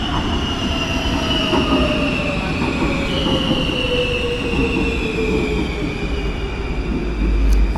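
A metro train rumbles loudly and steadily in a Warsaw Metro station, wheels squealing in long high whines, a continuous close roar with no voices.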